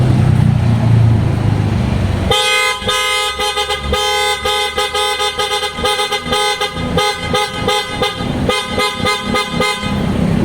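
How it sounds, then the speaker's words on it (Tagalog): PIAA aftermarket horns fitted to a Nissan Navara blast in loud, close bursts of varying length after a couple of seconds of idle rumble, sounding repeatedly until the end. "subukan natin mga boss yung auto style horn natin"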